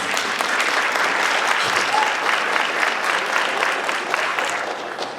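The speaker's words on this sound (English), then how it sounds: "You can clap." An audience applauds steadily at a firefighter academy graduation in Trenton, a dense wash of many hands clapping that fades slightly toward the end, with no talk over it.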